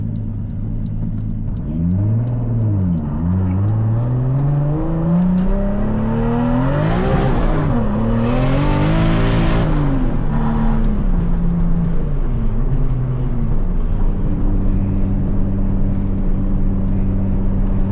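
MK4 Toyota Supra with a manual transmission cruising, loud steady engine drone that rises and falls through gear changes, heard close from inside the car with no voices.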